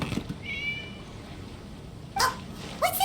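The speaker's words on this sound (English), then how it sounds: "It was just a cat." A cat meows in the Genshin Impact video game, a soft drawn-out call followed by two short, sharper meows near the end, with faint game ambience underneath.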